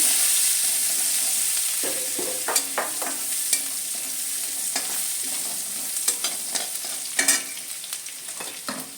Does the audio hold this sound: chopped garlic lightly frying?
yes